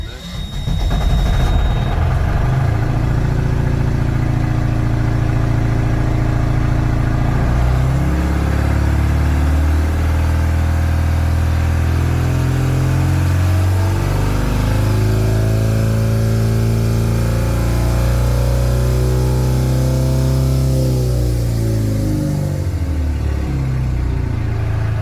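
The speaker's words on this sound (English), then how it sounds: "we're going to start the engine." Lifeboat diesel engine cranking and catching during an on-load release and davit load test, then running loud and close with a steady low rumble and uneven throbbing revs for the whole stretch.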